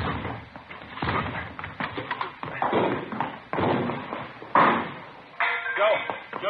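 Police officers break a door open in an old radio crime drama, a series of heavy thuds and bangs mixed with voices calling out and talking over the impacts.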